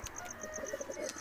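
Rajenbala pigeons, a male and a female, make soft, faint coos in a short, quick series of repeated notes close by.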